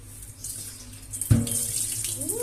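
After a dull knock, water from a kitchen tap runs steadily and close while vegetables such as carrots are washed for soup.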